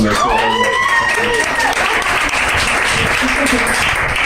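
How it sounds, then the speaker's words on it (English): Audience clapping at a live comedy show, loud and steady across the whole stretch, with voices talking and calling out over the applause near the start. "You guys have to clap until they sit down."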